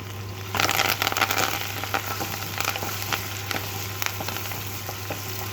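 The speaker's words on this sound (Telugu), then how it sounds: "ఆయిల్ వేడైన తర్వాత ఇప్పుడు మనం ఇందులో తాలింపు దగ్గర పప్పు దినుసులు ఇందులో వేసుకోవాలి" Lentils and tempering spices frying in hot oil in a pan, a steady close sizzle with scattered crackles and stirring scrapes, no talking.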